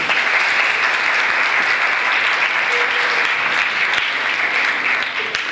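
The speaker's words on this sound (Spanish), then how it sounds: "Vamos a darle un fuerte aplauso." Strong, sustained applause from an audience at an academic presentation on Pilates research, a dense steady wash of many hands clapping at even loudness throughout, with no talk over it.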